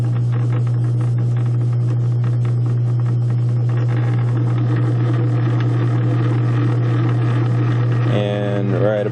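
Metal lathe running while tapping with a tailstock tap holder, a steady loud motor hum and rumble throughout, with a brief shift in tone near the end.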